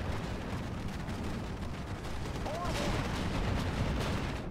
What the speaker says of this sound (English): I got to see the Nimrod open fire. Look at that fire rate.